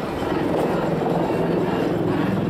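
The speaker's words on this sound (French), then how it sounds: "Il y en a un autre hélicoptère en face de toi." A helicopter roars steadily and loudly nearby over an anti-austerity march in Montreal, its rotor drone filling the whole stretch, with faint voices mixed underneath.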